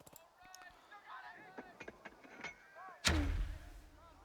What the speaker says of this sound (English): I'm going to use my mortar smoke